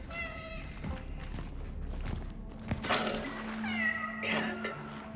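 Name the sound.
cat meowing in Cronos: The New Dawn video game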